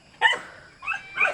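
A family dog at a hillside hut gives a sharp, close bark followed by two softer yips, with no talking.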